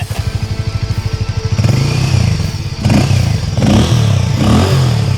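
A Harley-Davidson X440 motorcycle, just dropped 30 feet, cranks with a rhythmic starter chug before the engine catches and revs roughly, loud and close with some clattering.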